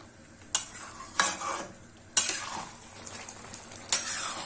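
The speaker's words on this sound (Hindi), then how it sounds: "मटन को चलाते रहें ताकि ये मसाला चिपके ना।" Mutton with spices frying in a pan over medium heat, with four sharp scrapes of a spoon stirring against the metal, each followed by a rising sizzle. The sound is close and there is no talk.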